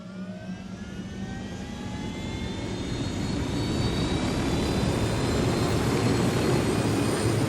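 An aircraft engine roars in Tom Clancy's Ghost Recon Wildlands while the player pilots, a steady jet-like whine with rising tones that grows gradually louder and fuller over several seconds, with no voices.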